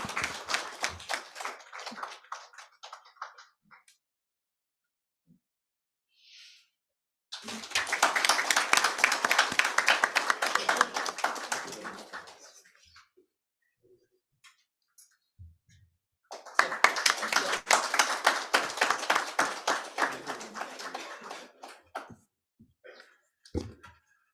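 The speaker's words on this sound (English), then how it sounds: "Can we keep the applause going?" Two long bursts of dense audience clapping separated by quiet, the second fading out gradually with a few scattered claps.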